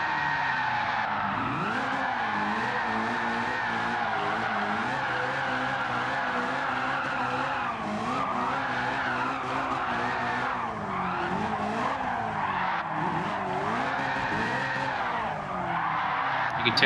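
A TVR fitted with a 1000hp LT5 V8 lapping a track in Gran Turismo 7, its engine droning continuously and rising and falling through gear changes while the tyres squeal and skid almost the whole way.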